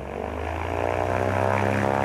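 Propeller aircraft fly past at a Schneider Trophy tribute at Calshot, their steady droning engine note building slightly in loudness as they pass, with no voices present.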